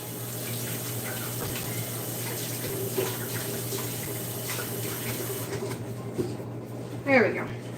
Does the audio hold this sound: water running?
yes